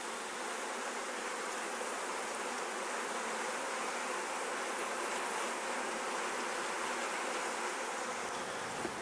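Honey bees buzz in a steady, dense drone around a screened queen cage during a queen release, the hum continuous and fairly close with no talking.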